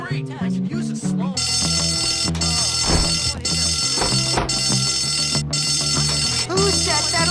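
A fire alarm rings steadily in the school setting of the video game Bully, loud and continuous under layered in-game music and effects.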